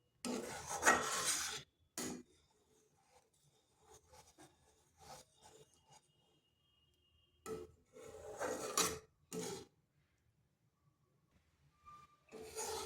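A spoon scrapes and stirs a thickening milk mixture in a pan over slow to medium heat, making intermittent raspy strokes in short clusters separated by near silence.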